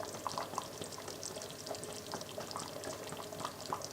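Broth with fire-roasted tomatoes and spices simmering in a pot, a soft continuous bubbling hiss with faint scattered pops and gurgles, steady and fairly quiet throughout.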